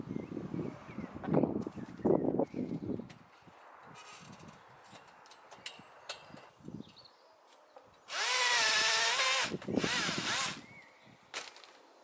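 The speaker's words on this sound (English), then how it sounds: "That's my steel drilling problem solved." A power drill whines steadily for a couple of seconds, biting into polytunnel steel, with scattered knocks and handling noises before and after.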